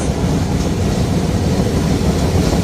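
The Banalata Express passes straight through Ibrahimabad railway station in light rain, a loud, continuous rolling rumble with rapid wheel clatter close by.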